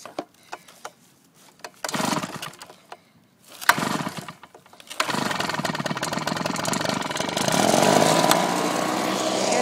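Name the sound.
Husqvarna lawn mower engine cold start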